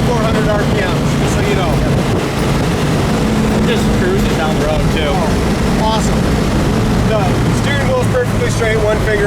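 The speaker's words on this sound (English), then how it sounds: "I know it's loud, guys, with this wind" Heavy wind buffeting a microphone in a 1970 Chevelle convertible driving with the top down, a loud continuous roar mixed with engine and road noise, with someone talking over it.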